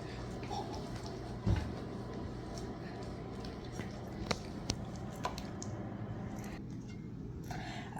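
Slime gets activated in a big mixing bowl, giving soft wet squishes and sticky squelches, with a few sharper clicks and taps scattered through the steady, close background.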